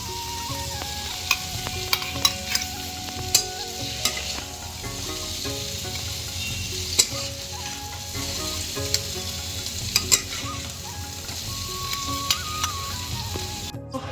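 Bottle gourd and prawn curry simmering on a low flame, with a steady close sizzle and frying crackle and occasional sharp pops and clinks throughout, no voices.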